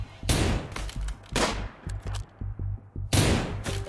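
Bursts of gunfire from the colony-survival video game Rimworld, sharp loud volleys at the start, middle and end with scattered single shots in between, set in an arctic map during a firefight.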